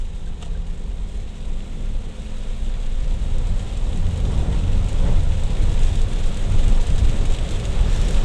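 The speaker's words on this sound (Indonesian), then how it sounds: "begini kondisinya kalau hujan ini teman-teman Mas Bro" Heavy rain drums steadily on a car while it drives the Binjai–Kualanamu toll road, a dense, loud roar that builds and stays broadband throughout with no talk.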